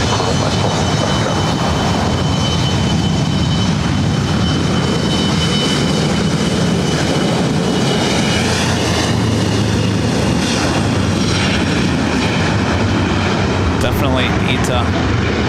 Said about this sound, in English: the Lufthansa Queen taking off on the south side